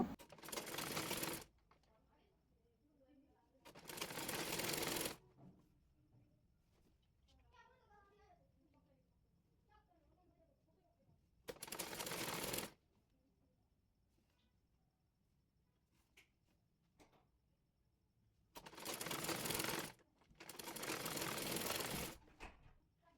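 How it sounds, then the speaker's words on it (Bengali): A sewing machine stitches a sleeve onto the body of a child's fatua in several loud, close bursts of rapid whirring, separated by quiet pauses with faint handling sounds and a voice speaking softly. "বডি পার্টের উপরে হাতাটি রেখে সেলাই করে নেব।"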